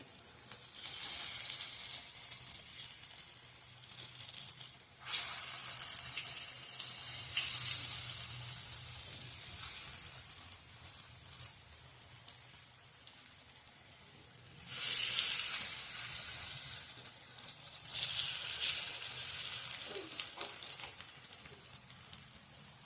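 Hara bhara veg kebabs fry in shallow oil with a steady, crackling sizzle. It surges louder at intervals as the patties are moved or flipped, with no talk over it.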